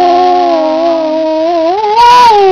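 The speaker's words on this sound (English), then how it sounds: "Just sing, Beethoven, sing a song." A dog howls along as if singing, one long sustained wavering howl that rises in pitch toward the end, loud and close, with no talking over it.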